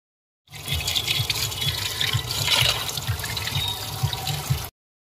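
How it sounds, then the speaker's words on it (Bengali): Cut fish pieces are washed under running water in a kitchen, a steady splashing gush with rhythmic sloshes as the fish is handled, starting and stopping abruptly. "পুরো মাছটা কেটে নিয়েছি, এবার আমি ধুয়ে নেব পরিষ্কার করে।"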